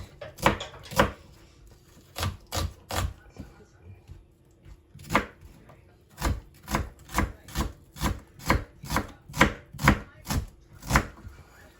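Onions are chopped for kinilaw, fish cured in vinegar, with a knife striking a wooden board in quick, evenly spaced knocks, a short burst, a pause, then a long steady run of chops, close and clear with no speech.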